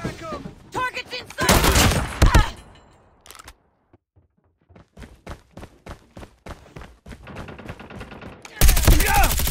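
Rapid bursts of automatic gunfire from the Call of Duty Mobile multiplayer match Crossroads Strike, loud stretches of dense shooting broken by sparse single shots and quieter gaps, with in-game voices calling out.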